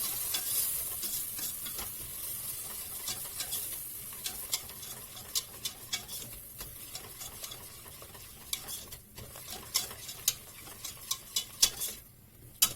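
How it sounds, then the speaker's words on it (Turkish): Eggplant stir-fried in oil over low heat in a pan, a steady soft sizzle with frequent sharp stirring scrapes and taps of a utensil, close and continuous without talk. "Şimdi bunu pişireceğiz ama kısık ateşte"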